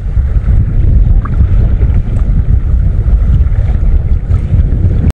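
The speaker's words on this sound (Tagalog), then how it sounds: "At malakas ang hangin." Strong wind buffeting a microphone on a small boat while ultralight lure fishing, a loud, continuous low rumble and roar with slight water movement, no talking.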